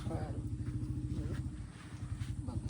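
A procession of motorcycles rides through a Punjabi village during a food-collection round for a memorial langar, producing a continuous close engine rumble and drone with people talking over it.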